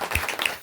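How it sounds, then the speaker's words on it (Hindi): A church congregation claps hands during a Hindi sermon, a brief dense burst of applause. "ताली बजाओ, हालेलुया।"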